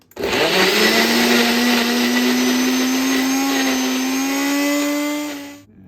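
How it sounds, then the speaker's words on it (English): A Ninja blender whirs loudly and steadily as it purees vegetables with grapeseed oil, its motor pitch rising slightly over several seconds before winding down. "now let's blend"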